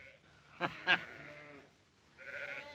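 Sheep bleat nearby in the western TV series Bonanza, two short cries followed by a longer, wavering call after a pause.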